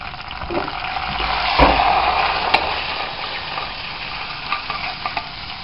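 Nuts toast in a frying pan while making Polish pierogi, a soft continuous sizzle with occasional stirring scrapes and light clatters close by.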